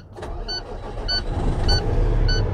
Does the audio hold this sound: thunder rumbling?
no